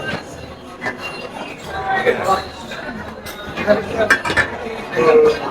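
A serving spoon clinks and scrapes against a metal buffet tray while beef is stirred and taken, with intermittent close metallic clatter under steady talking and background chatter.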